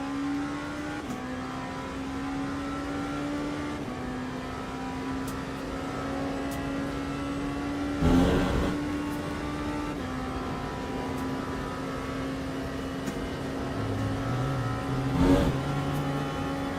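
Race car engine in Le Mans Ultimate on the Le Mans circuit, a steady high droning whine held through long pulls with brief shifts and a couple of louder surges, close and continuous, with no talk.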